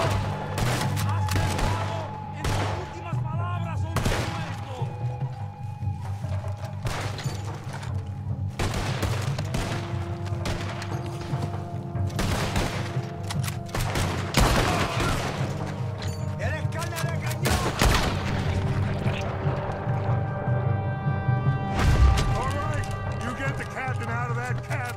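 Gunfire in Red Dead Redemption 2, with repeated sharp shots and bursts sounding across the clip over a steady game score, someone talking over the action.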